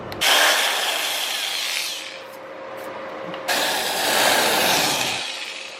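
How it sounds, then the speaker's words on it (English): A power drill whines loudly as it bores a 1/8-inch pilot hole into a 40-year-old Atari 2600 Jr console, stopping briefly partway through and then starting again, with no talking. "So you drill with a 1/8 inch for the pilot hole"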